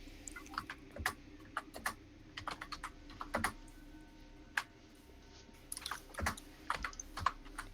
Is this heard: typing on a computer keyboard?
yes